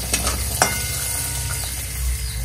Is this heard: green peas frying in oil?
yes